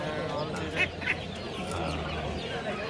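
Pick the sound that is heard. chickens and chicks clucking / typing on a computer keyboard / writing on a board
chickens and chicks clucking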